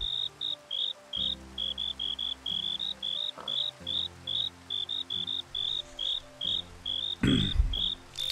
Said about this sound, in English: Cicadas, man. Noisy here.